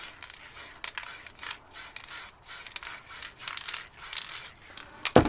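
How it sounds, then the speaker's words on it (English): White spray paint hisses from an aerosol can in a series of short, close bursts for a light misting over a painting, each puff separated by brief pauses. "So light spray of a white."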